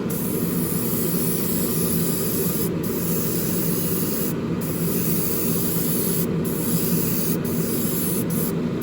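Airbrush or spray can misting paint steadily onto the frame of an AMT 1967 Impala plastic model kit, a continuous close hiss lasting throughout with a few brief pauses in the spray.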